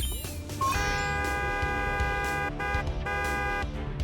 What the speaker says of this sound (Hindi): इस हॉर्न की आवाज से भी मॉडल पर कोई असर नहीं हुआ।